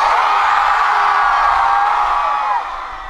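A large student crowd at a university festival concert cheers and screams as one sustained roar, loud and close. It holds steady for over two seconds before easing off slightly at the end.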